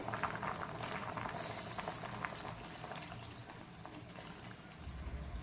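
A pot of dal bubbles at a steady rolling boil, continuous gurgling and popping close by, with no voices.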